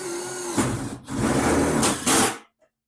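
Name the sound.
power drill driving self-tapping screws into VW Beetle fender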